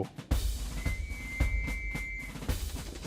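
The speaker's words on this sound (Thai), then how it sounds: "มีเสียงนกหวีดดังขึ้น" A thin, steady whistle sounds for about a second and a half in a mobile World War video game, mixed with repeated thumps and bursts of battle noise.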